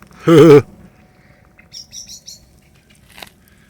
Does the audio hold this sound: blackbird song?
yes